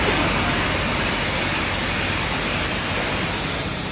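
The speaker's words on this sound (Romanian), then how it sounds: "îl lăsăm jos și clătim cu apă la presiune mare." High-pressure water spray rinsing a car at a self-service coin-operated car wash, a loud, steady, close hiss of jetting water that runs unbroken throughout.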